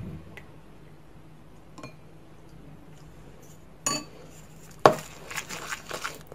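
Henna powder being mixed with a black tea and onion liquid, heard as a few sharp clinks and taps of a utensil against a bowl amid quiet, with scattered small scraping sounds near the end.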